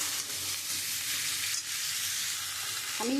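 Spice powders, including ground cumin, fry in oil for a tilapia and papaya curry, giving a steady close hiss and sizzle with no talking.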